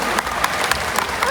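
A zoo show crowd gives a short burst of steady clapping for a performing sea lion, a moderate wash of hands under faint background voices.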